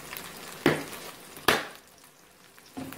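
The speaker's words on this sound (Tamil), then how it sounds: "இது நல்லா வதங்கட்டும். வெங்காயம் நல்லா வதங்கிட்டு பாருங்க." Onions sautéing in reused oil with star anise, cinnamon, cloves and cardamom for a homestyle chicken curry, a soft steady sizzle broken by three sharp stirring scrapes, fairly quiet and close.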